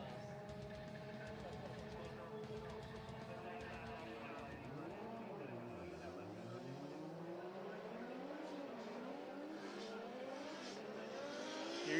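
Shuichi Mano's number 666 Vittor Racing drift car at Ebisu Circuit, its engine note rising and falling through the corners as it slides, with tire noise and a commentator talking over it throughout.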